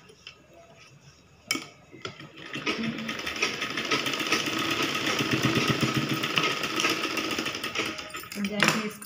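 A domestic sewing machine stitches a straight seam on a baby frock cut from a man's old cotton shirt. It runs in a steady, close, continuous rattling burst lasting several seconds, with starts and stops at either end.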